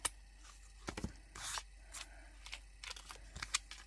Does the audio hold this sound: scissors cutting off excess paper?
yes